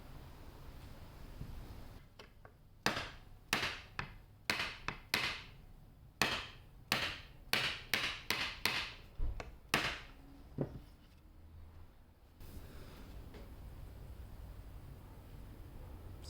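Frets hammered into a guitar neck: about fifteen sharp, close taps in quick irregular bursts, ringing briefly, with quiet room noise before and after.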